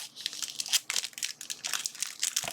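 Package of transparent sticky notes being cut open, with close, crisp crinkling and rustling plastic bursts in quick irregular succession, quiet overall and with no talk.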